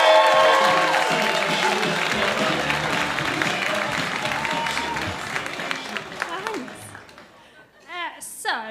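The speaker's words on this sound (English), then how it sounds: "We're going to do clapping on the count of 3, all together." An online comedy show audience claps and cheers together. The applause is strongest at the start and gradually fades, and voices come through near the end.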